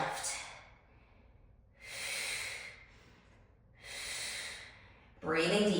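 Deep, slow breaths during a mat Pilates exercise, three long hissing exhales in a steady rhythm close to the mic, followed by a sharper, louder breath at the end.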